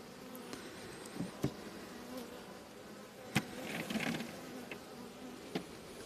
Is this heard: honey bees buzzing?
yes